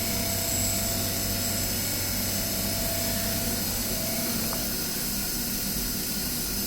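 A milling machine takes a facing cut with a 1/4 inch end mill, giving a steady, continuous whirring grind that stays even and fairly loud throughout, with no voices.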